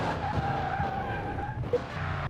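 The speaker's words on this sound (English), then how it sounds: "And now to check these brakes one last time." Car tires screeching and skidding under hard braking during a brake test after repairs, one loud sustained squeal with engine noise beneath, close by and without talking.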